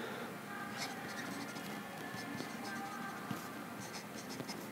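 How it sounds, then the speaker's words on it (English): A Conklin All American fountain pen with a firm medium nib scratches softly across paper in a quiet room, with light continuous strokes and small taps. "Let's do a writing sample here."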